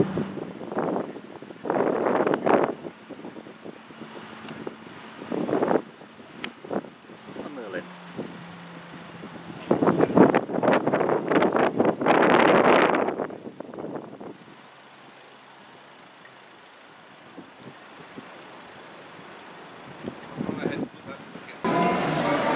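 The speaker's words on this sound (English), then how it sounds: "It is a bit blustery" Blustery outdoor wind gusts buffet the microphone in rough, loud bursts separated by quieter lulls, with a voice heard at times.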